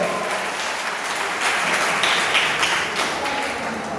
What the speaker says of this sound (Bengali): জোরে একটা হাততালি হয়ে যায়